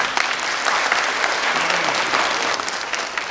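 Sustained audience applause fills a hall at an award ceremony, dense and steady clapping from a large crowd throughout with no break.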